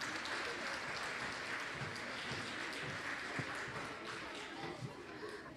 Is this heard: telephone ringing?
no